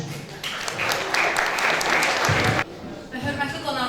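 An audience applauding the elders at an International Day of Older Persons gathering in Baku, a burst of clapping that swells, cuts off briefly and resumes, with a voice over part of it.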